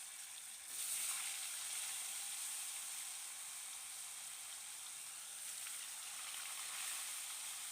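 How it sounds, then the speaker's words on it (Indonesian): Tofu frying in a pan for a rustic Indonesian home-cooked meal gives a steady, close, continuous oil sizzle and crackle, alone with no talking. "Nih aku goreng tahu."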